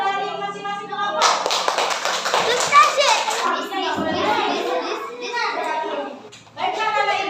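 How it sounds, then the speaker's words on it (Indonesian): A class of children in an Indonesian grade 5 primary school bursts into sustained applause after group presentations. Lively, uneven clapping mixes with excited young voices, briefly dips, then resumes. "Ayo kita tepuk tangan untuk hasil dari masing-masing kelompok."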